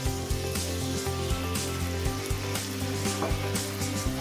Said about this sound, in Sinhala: ඉස්සු ටික හොඳට වැදුනට පස්සේ අපිට පුළුවන් දැන් ඇඩ් කරන්න අපේ සුදු වයින් ටික.